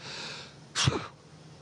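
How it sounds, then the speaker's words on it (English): One short sneeze, fairly close, bursting out sharply over a steady background hiss aboard the International Space Station, then fading quickly. "I'm going to sneeze."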